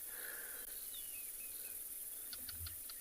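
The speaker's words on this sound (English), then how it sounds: "the little nocturnal crickets coming out." Faint cricket chirping in a quiet night setting in the South African bush, with a few soft bird calls and a short run of rapid clicks from a barking gecko near the end.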